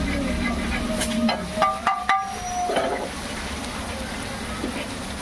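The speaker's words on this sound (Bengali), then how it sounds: "ভালো কষানো হচ্ছে।" Spice paste being sautéed in a hotel kitchen for mutton kosha, a moderate sizzle and scraping stir with a few louder clatters in the middle, then a steadier frying hiss, with faint background voices.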